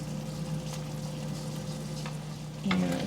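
Shrimp scampi with butter and fresh lemon juice sizzles steadily in a pan, with a louder burst of frying and stirring near the end as the mixture is worked around.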